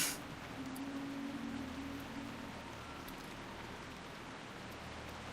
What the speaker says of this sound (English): Like, yeah, that's a serious rain.